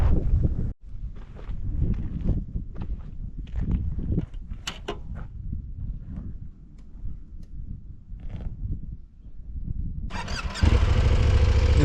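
A motorcycle on the Paso Água Negra dirt road idles and revs up close with a rough, pulsing engine note, then starts and pulls away louder near the end, with scuffing and handling sounds around it.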